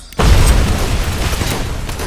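A grenade explodes in RoboCop: Rogue City as a loud, close boom that bursts in suddenly. A long rumbling roar follows and slowly fades.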